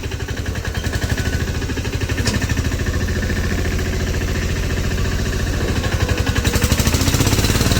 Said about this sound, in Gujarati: રેતી ઉપર ચડે એવું ટ્રેક્ટર